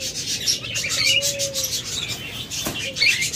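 Pigeons kept for sale give a few soft coos and chirps over a low, continuous background hum, with faint rustling of the birds.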